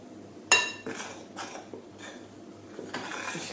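A big spoon stirs a yeast mixture in a bowl for bread dough, with a sharp clink against the side and then soft repeated scraping and knocking strokes, close and fairly quiet.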